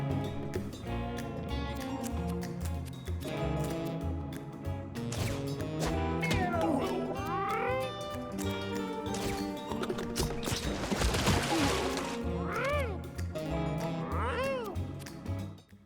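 Cartoonish cat meows rise and fall over busy, lively game music in Mewgenics, with several short meow calls scattered through a dense soundtrack.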